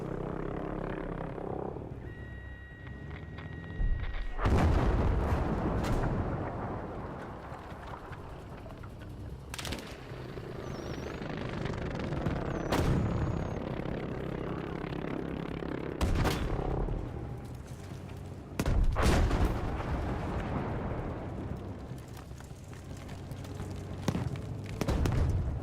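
Heavy explosive blasts and scattered gunfire in Battlefield 5, where anti-tank rounds are being fired: several loud booms at irregular intervals punch through a constant rumbling battlefield din.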